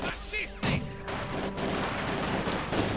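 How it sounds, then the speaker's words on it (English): Luftwaffe machine gun strafing run in Company of Heroes 2, a dense crackle of gunfire and fusillade bursts running through the whole stretch in a busy battle mix. "A quick strafing run there. Nice hit down the Soviet mortar. And the Stuka flies in. Machine guns firing away, not quite hitting anything."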